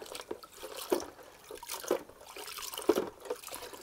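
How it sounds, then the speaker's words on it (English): A trap is worked up and down in a bucket of clean water, giving soft sloshing and dripping splashes roughly once a second, quiet and close with no talking. "all I do is I put it into a bucket of clean water"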